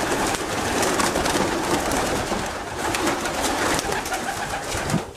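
Breeding racing pigeons coo steadily in a loft, a dense, continuous layer of soft throaty calls close by with no talking.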